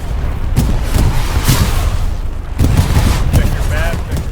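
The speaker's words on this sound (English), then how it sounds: "You'll hear every gunshot, explosion, and the roar of engines" Heavy booms and bursts of gunfire in a war video game thunder in repeated waves, dense and loud, like a battle raging close by.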